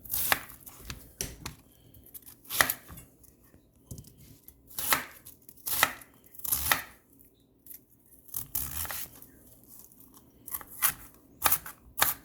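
Knife chopping red cabbage for a wok dish, a series of crisp, close cutting strokes in irregular bursts with short pauses between, no talking.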